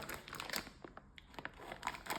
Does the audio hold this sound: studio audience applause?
no